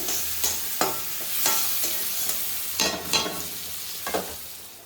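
Salted fish cooking in a covered pan with tomatoes, giving a steady close sizzle broken by several sharp stirring scrapes and clatters.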